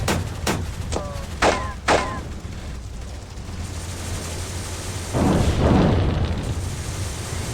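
Tank gunfire and explosions ring out in the Graviteam Tactics battle game set in Africa in 1986: a few sharp blasts close together early, then a louder, longer rumbling explosion later, with brief chirping radio-like sounds in between.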